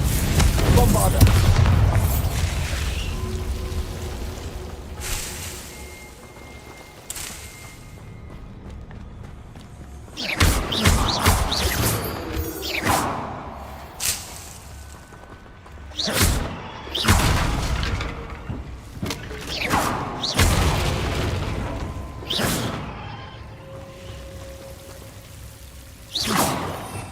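Bombarda blasting-curse explosions in Hogwarts Legacy land as repeated deep booms and whooshes, loud and spread across the scene, mixed with game sound effects and a voice speaking at times.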